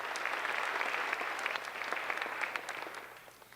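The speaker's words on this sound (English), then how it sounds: "let's give him a round of applause" Applause from the audience at a high school senior awards ceremony comes as steady, dense clapping in a large room, then gradually tapers off toward the end.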